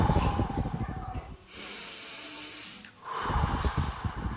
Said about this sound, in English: every morning, we take deep breath